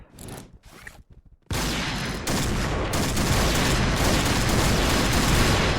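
Heavy gunfire from an M200 gun in a first-person shooter: a few brief bursts, then a sustained, loud, dense barrage that keeps going to the end.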